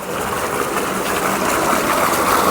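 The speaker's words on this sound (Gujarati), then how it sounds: "અને બોર ચાલુ પણ કરી દીધો છે હવે" A borewell water pump runs on a farm, giving a loud steady mechanical whir with a broad continuous rushing texture that holds unchanged from start to finish, with no talking over it.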